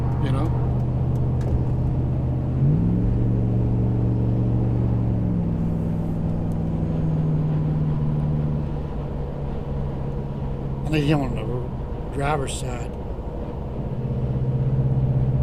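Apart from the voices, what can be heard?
Dodge minivan driving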